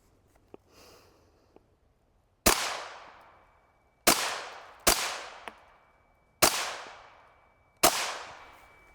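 An HK G36 rifle chambered in .22 LR fires five sharp, spaced shots at an outdoor range target, each a loud close crack with a short fading tail, preceded by faint handling clicks.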